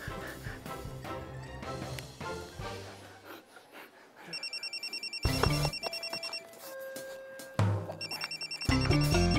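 A mobile phone rings in a loud, busy scene, its repeating electronic tone pulsing in bursts amid music and background noise, with brief voices nearby.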